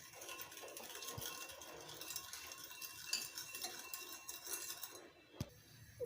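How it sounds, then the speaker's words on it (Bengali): Sugar, vinegar, homemade tomato sauce and water are stirred together in a pot, giving a steady scraping, rattling stir with clinks of a utensil against the metal, running continuously and fairly close. "এখন ভালোভাবে মিশিয়ে নিব।"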